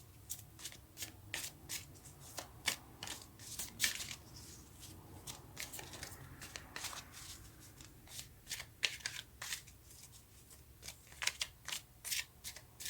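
Tarot cards being shuffled by hand, a steady run of crisp riffling and slapping card sounds close up, with no talking.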